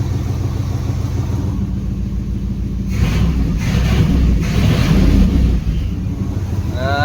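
A Turbo Trans Am engine rumbling under load as the transmission shifts, the roar swelling midway then dropping back, heard close and loud with a brief whine at the end.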